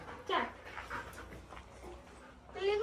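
A dog weighing about 31 kilograms pants and whimpers softly at close range, with faint whines and breaths under quiet background sounds.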